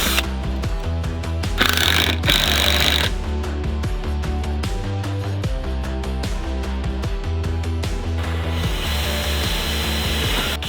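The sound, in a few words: drill pre-drilling holes for roofing screws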